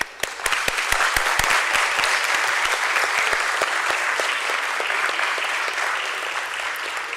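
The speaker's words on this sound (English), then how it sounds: "let us have a resounding of claps for the hard work and effort put in by everyone" Dense, sustained audience applause at a BSE stock exchange listing ceremony for Bondada Engineering Limited, with many hands clapping together and sharp individual claps standing out, loud and steady throughout with no talk.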